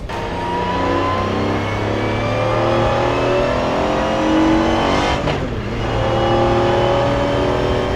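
A Mercedes CLK GTR Roadster engine revs and pulls hard, its loud, close engine note climbing through rising pitch sweeps, with a brief dip as it shifts before accelerating again.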